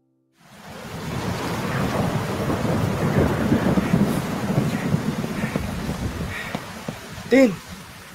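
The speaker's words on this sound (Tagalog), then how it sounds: "Susugurin ko na tong ulan." A radio-drama thunderstorm effect: heavy rain sets in suddenly and pours steadily with low rumbling thunder, then a sharper thunderclap near the end.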